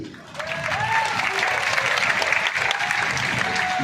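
A crowd at a live religious gathering claps, with a steady mass of applause rising after a brief lull. Faint voices and shouts are mixed in with the clapping.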